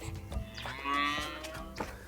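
Dairy cows on a small mixed farm in Uganda give a single drawn-out moo, fairly close and clear, amid faint farmyard background sounds.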